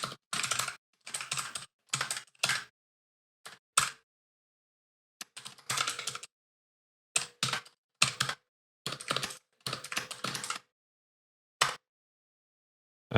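Code being typed on a computer keyboard comes through as close, crisp bursts of rapid keystrokes separated by short silent pauses, with a few isolated single key taps.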